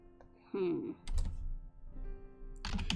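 Computer keyboard typing during a pixel art livestream, bursts of close key clacks, partly under a voice talking and some background tones.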